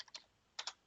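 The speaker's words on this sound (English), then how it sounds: "you type this to load the directory up" Keys on a Commodore PET computer keyboard being typed, a few quick clicky presses in two small clusters, close and fairly quiet.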